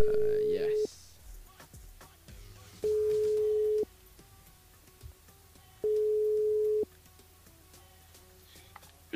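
Telephone line tone on a call placed by a radio host to a listener during a live broadcast: three steady, loud tone bursts of about one second each, with quieter talk and background sound in the gaps.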